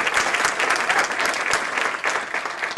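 A forum audience at an environmental event on sea level rise gives a dense, steady round of clapping, loud and close, with no voices over it.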